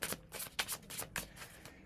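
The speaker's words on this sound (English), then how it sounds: "3 tarot cards. We'll give them a good shuffle." Tarot cards riffle and snap together in quick repeated bursts, a close, crisp shuffling sound.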